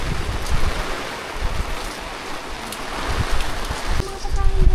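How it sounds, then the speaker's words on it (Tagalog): Steady broadband hiss of heavy typhoon rain pouring down on a mountain campsite in Atok, Benguet, throughout, with gusty swells and a faint low rumble toward the end. "Lakas ng ulan."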